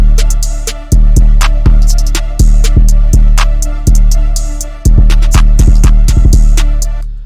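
A hip-hop beat with a short, boosted 808 bass in a bouncy style, thumping hits layered under crisp hi-hats and snappy percussion in a steady rhythm, loud and upfront.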